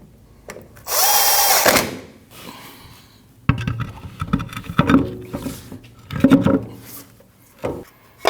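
Power drill driving the last screw under a mud flap on a 2012-2021 Nissan NV2500 van, a loud steady whir lasting about a second, then several shorter bursts and clanks of tool handling.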